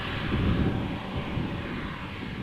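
Heavy airliners taxi along a parallel taxiway at Amsterdam Schiphol, their engines a steady, broad distant roar mixed with some wind rumble and no speech.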